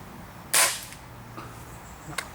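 A single sharp shot from a BSA Airsporter S air rifle cracks once near the start, close and loud, followed by quiet outdoor background and a faint tap near the end.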